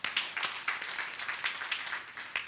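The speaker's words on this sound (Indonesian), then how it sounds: "Tepuk tangan buat Tuhan Yesus" Church congregation clapping together for Jesus during a senior pastor's sermon: a soft, steady patter of many hands, slightly distant, with a few sharper bursts.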